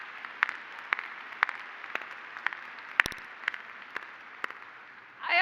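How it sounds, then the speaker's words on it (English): An audience at a Columbia School of Nursing 2022 graduation ceremony applauds in a steady wash of clapping with regular sharper claps, before a louder swell at the very end. "Can we just give you all a round of applause"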